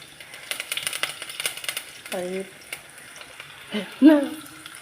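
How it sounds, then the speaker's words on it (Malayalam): Garlic, ginger and curry leaves sautéing in a pan for mango pickle: a soft, steady sizzle with stirring scrapes, and brief tonal squeaks and clatter toward the end. "നന്നായി വഴറ്റുക"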